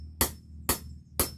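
Three sharp, evenly spaced hammer strikes ring out against plum wood as a walking stick billet is worked free with hand tools in an overgrown orchard, each blow a crisp close knock.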